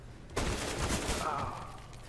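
Gunfire in the video game Overwatch bursts in at once and runs as a sustained, dense barrage, loud and close, mixed with game effects and tailing off slightly toward the end.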